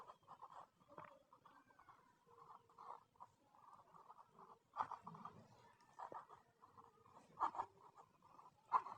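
Pen scratching across paper while working a math word problem, with soft irregular strokes and taps at close range, fairly quiet and continuous.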